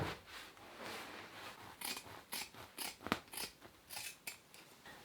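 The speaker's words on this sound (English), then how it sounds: "I need to cut all of these mattresses to size now and add extra padding." Foam mattresses for a mid-century modern wrap-around sofa being cut to size, heard as a run of crisp snipping and crunching cuts at close range, with irregular bursts of several strokes and no talk.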